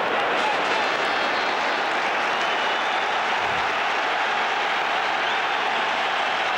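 A stadium crowd at a 2001 World Cup qualifier between Australia and Uruguay applauds and cheers, a dense, steady wash of clapping and roaring that continues without a break.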